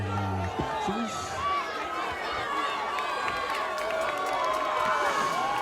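The Durfee home crowd cheers and shouts at a high school football game against Brockton at Mac Aldrich Field, a continuous roar of voices with scattered yells and chatter.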